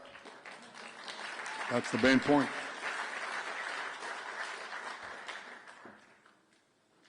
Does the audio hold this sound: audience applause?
yes